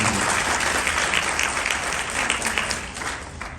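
Dense applause from a gathered audience at an MDRT opening event, steady and fairly loud throughout with a faint low rumble underneath.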